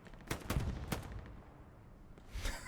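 Gewehr rifle fire in Hell Let Loose on Omaha Beach: a few quick sharp cracks close together early, then a quieter gap before another shot near the end, muffled and moderately distant.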